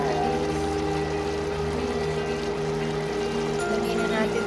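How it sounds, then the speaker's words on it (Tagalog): Shrimp stock poured into a pot of pansit miki, a soft steady stream of liquid over a continuous low kitchen hum, with no talk. "Lagyan na natin itong shrimp stock."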